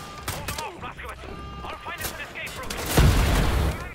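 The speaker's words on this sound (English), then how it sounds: "Okay, that's a gunshot." Gunfire in the shooter game Wolfenstein: The Old Blood, with several sharp shots scattered through the clip and a heavier boom near the end, set against game voices and ambient battle noise.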